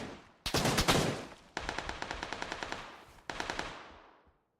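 Automatic gunfire from a console first-person shooter, loud and close: a long opening burst, then a steady rapid run of evenly spaced shots, a brief gap, and a final shorter burst that trails off, with no talk.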